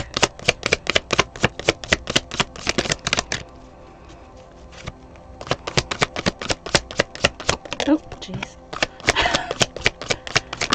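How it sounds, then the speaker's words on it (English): A tarot deck is shuffled in rapid riffling bursts, a pause in the middle, then more quick shuffling; a voice briefly exclaims. "Usually when I do these kind of shuffles"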